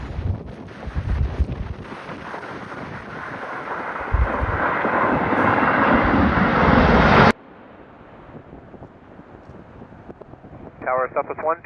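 A KLM airliner landing in strong gusty crosswinds of around 35 knots, heard as a loud roar of engine noise heavily buffeted by wind on the microphone, which cuts off abruptly to quieter ambience.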